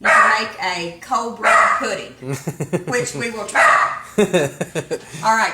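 Dogs bark and yip indoors in a home kitchen, mixed in with a person talking loudly over them.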